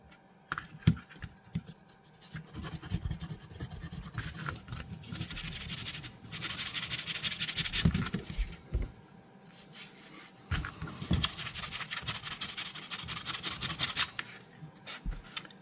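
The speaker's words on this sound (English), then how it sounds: "This is 600 grit initial polish. Just very quickly getting rid of the rough stuff." Hand sanding of a vintage folding knife blade with 600 grit sandpaper, a steady close scratchy rubbing in bursts of back-and-forth strokes with brief pauses between passes.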